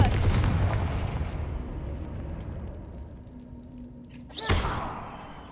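A Confringo blasting spell is cast in Hogwarts Legacy, starting with a loud burst and a rumbling, fading roar. A second sharp, bright blast follows near the end, then trails off.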